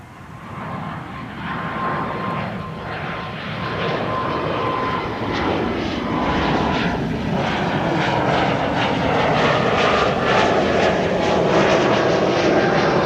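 An Embraer E2 jet takes off from a Schiphol runway: a loud, steady engine roar that builds gradually and holds near, heard alone without talk.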